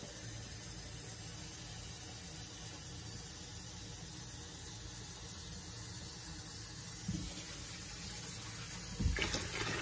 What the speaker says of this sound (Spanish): Ahora voy a echar 5 litros de agua tibia